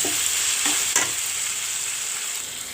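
Ginger garlic paste fries and is stirred in a pan, a steady close sizzle running throughout with a couple of brief scraping strokes near the start, no voices.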